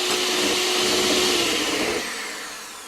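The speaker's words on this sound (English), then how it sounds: "We're going to mix this until it gets a nice peak" An electric mixer whipping egg whites and sugar for chocolate mousse gives a loud, close, steady high whir that holds and then drops in volume near the end.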